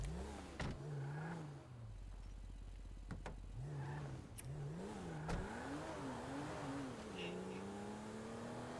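A slow truck's engine drives in a roleplay driving game, its pitch swelling and dipping as it revs and shifts, holding a continuous close drone with road noise, while voices talk faintly underneath.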